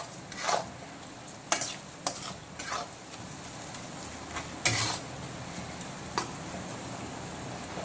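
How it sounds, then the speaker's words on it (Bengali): Boiled lotte fish, also called Bombay duck, is sautéed with spices in a pan: a low sizzle runs throughout, punctuated by several sharp scraping stirs of a spatula or spoon against the pan. "এখন সেদ্ধ করা লোটে মাছটাকে মশলার সঙ্গে বেশ কিছুক্ষণ ভালো করে এইভাবে কষিয়ে নিতে হবে।"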